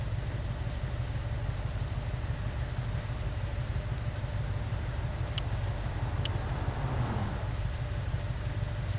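Steady rain hisses in a BeamNG driving game during a racing career session, a dense even wash with faint engine rumble underneath and a couple of brief ticks.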